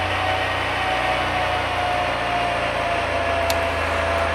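A Class 142 diesel train engine drones steadily at high RPM in Train Simulator Classic, a constant low hum with a faint whine and no talk.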